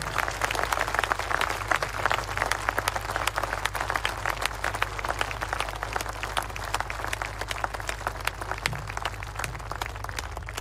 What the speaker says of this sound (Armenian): ևս մեկ անգամ բարձր ծափահարություններ Արցախի մեր հայրենակիցներին